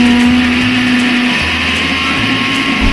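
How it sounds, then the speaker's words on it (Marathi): A mixer grinder whirs loudly and steadily up close, its motor pitch shifting slightly as it grinds. "मिक्सरमध्ये ग्राइंड कर"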